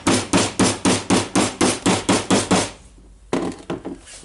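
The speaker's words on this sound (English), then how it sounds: "this tool and the hammer to press it down." Steel hammer tapping a tool to press a ball bearing into the housing of a Makita 3708FC router, about ten sharp, evenly spaced close blows, a brief pause, then a few quicker lighter taps.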